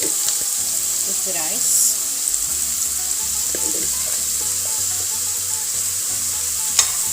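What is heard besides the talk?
stir-frying chicken and broccoli in a pan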